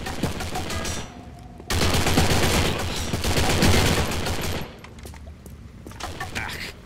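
Enemy gunfire in the video game Postal 4: dense bursts of shots, loud and sustained through the middle, then quieter scattered fire toward the end.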